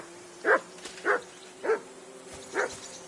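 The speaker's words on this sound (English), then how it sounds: "You can hear that damn dog of yours barking." Dog barking in a video game: four separate loud barks spaced roughly half a second apart over a steady low background hum, with no talking.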